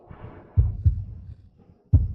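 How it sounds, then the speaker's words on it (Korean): A heartbeat sound effect thumps low and close, with double beats in a slow, steady rhythm and quiet gaps between them. "이렇게 가슴이 두근거릴까?"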